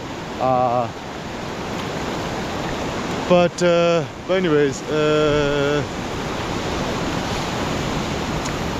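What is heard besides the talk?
ocean waves on a beach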